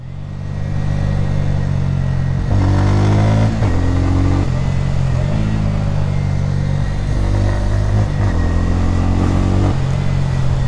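A Bajaj Pulsar N160 motorcycle is ridden along the road, its engine loud and close, rising and falling through several rev swells and gear changes over steady road and wind rush, with no voices.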